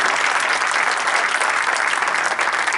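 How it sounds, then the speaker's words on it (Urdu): Sustained applause from a literary-evening audience for Arshad Rasheed, a dense even roar of many hands clapping at steady loudness throughout, with no talk. "ایک بار پھر سے ہو جائیں تالیاں ارشد رشید"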